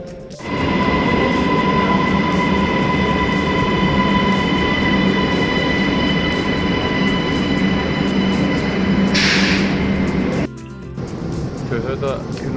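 An Ankara metro train runs with a loud, steady rumble and a high whine, close by for most of the ride, then cuts off with a clunk toward the end; a voice talks over it.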